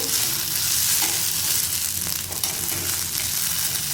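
Ingredients for a taco filling fry in a pan, salt just added, a dense continuous sizzle with faint stirring scrapes, close and steady throughout, with no talking.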